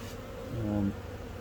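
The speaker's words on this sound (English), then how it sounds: "So there's a couple of bees on there at the moment." Faint honeybee buzzing hums softly at a hive entrance during a colony transfer in a quiet outdoor setting, briefly swelling louder for a moment before settling back.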